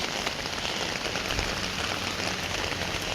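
Steady rain falls outdoors on a morning walk, a dense, even hiss of drops striking the ground and surfaces, continuous and close throughout with no talking.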